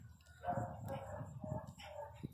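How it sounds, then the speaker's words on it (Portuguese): A pinscher dog barks in short sharp yaps, several quick barks in a row heard close, with low background noise and a voice in the scene. "Você tá latindo?"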